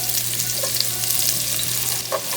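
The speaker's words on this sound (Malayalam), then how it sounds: "ഇതിൽ നല്ലതായിട്ട് റോ സ്മെല്ല് മാറുന്നത് വരെ വഴറ്റി കൊടുക്കണം" Chopped onions for a Kerala-style vegetable kurma sauté in a pan with a loud, continuous sizzle and faint stirring clicks, no voices.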